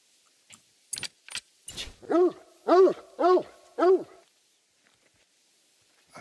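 A dog in the hunting game Hunter Call of the Wild barks four times in an even rhythm, fairly loud and close, after a few sharp clicks and jangling sounds, then falls silent.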